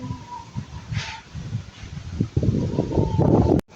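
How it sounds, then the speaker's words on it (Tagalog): Strong gusty wind ahead of an approaching typhoon buffets the microphone and rustles foliage, rising into a louder, denser roar toward the end before cutting off abruptly. "Sobrang lakas nga po pala ng hangin."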